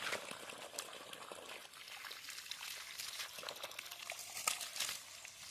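Water is poured onto soil to soak it around a coconut palm, a faint, close trickling and crinkling dribble that continues unevenly.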